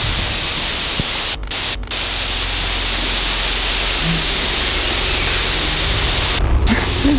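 Steady rain falls outside, a dense, loud hiss that runs the whole time, with a few faint thumps and brief dropouts.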